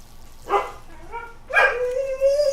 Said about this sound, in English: my dog's here. He likes to whine.